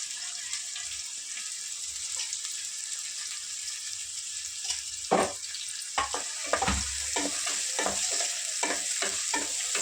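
Onions being stirred and fried in a pan, a gentle background sizzle broken by repeated scraping and clinking strokes of a spoon that grow busier toward the end.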